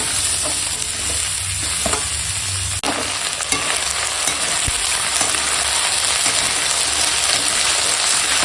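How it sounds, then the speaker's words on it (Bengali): A pan of vegetables with greens, ginger and garlic paste stir-fries with a loud, continuous hissing sizzle, broken by occasional scrapes and knocks of the stirring spoon. "সবজিটা এখন ভালো করে কষানো হয়ে গেছে"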